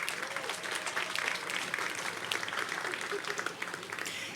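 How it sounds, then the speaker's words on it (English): An audience at a 2021 university convocation claps and cheers in a continuous burst of applause, many hands together with some crowd noise mixed in, steady from start to finish. "Round of applause, snap it up for them."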